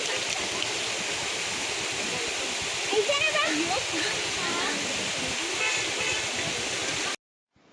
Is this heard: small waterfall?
yes